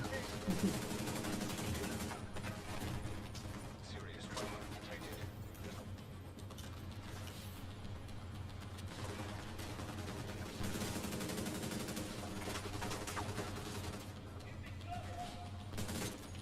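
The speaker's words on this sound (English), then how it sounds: "Covering fire!" Video game gunfire with rapid automatic bursts and scattered shots, loud and sustained throughout under dense game noise, with players talking over it.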